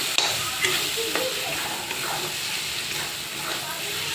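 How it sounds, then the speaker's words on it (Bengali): Spices for chicken curry sauté in a hot pan with a steady, close sizzle and hiss, and a few light stirring scrapes come through near the start. "বাকি মশলাটা কষাই নিয়ে"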